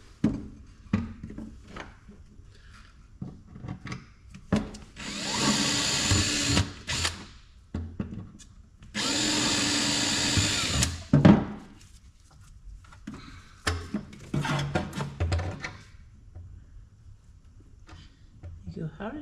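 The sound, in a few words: drill running with left-handed drill bit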